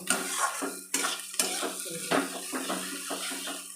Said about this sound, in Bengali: খুব ভালোভাবে নেড়ে চেড়ে নেব।